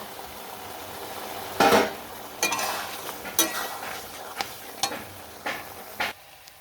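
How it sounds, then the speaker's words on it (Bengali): A Malabar spinach stem curry with sugar is stirred in a pan, bursts of frying hiss and repeated spatula scrapes and clinks arriving at irregular intervals, close by and without talk. "চিনি দিয়ে নাড়াচাড়া করে নেব"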